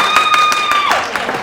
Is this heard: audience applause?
yes